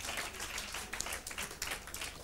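Audience applause on a stage show, faint and distant, with a steady patter of many hands clapping for a few seconds.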